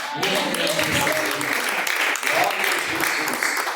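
A congregation claps during a live church service, a dense, continuous applause close by with some voices mixed in.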